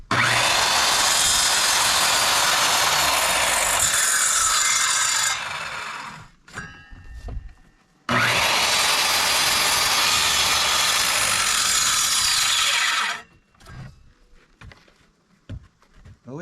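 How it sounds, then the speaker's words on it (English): Handsaw cutting through a clamped wooden board for board-and-batten cabin siding, two long bursts of loud rasping strokes separated by a pause, each followed by scattered clunks and knocks. "Put a clamp on that board, clamp on the other end. I'm going to do some cutting."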